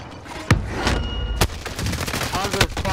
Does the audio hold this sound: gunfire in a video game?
yes